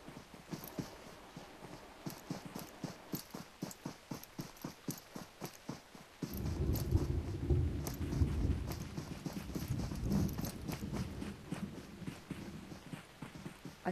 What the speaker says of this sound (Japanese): 足音が怖い。